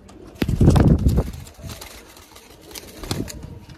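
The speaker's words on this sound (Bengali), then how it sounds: "এখানে একটি কালাঙ্কা জিরিয়া বাচ্চা আছে, সব বাচ্চা পায়রা" Young pigeons coo close by in a loft: a soft, throaty burst of cooing near the start, quieter murmurs afterward, and a second short coo near the end.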